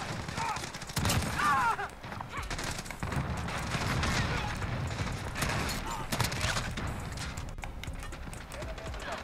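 Rapid bursts of video game gunfire crackle through a dense, noisy mix, with several sharp shots standing out over a busy background.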